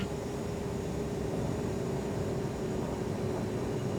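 Steady, broadband rushing engine roar inside a Coast Guard Falcon jet on landing approach, constant and fairly faint with a faint tonal hum.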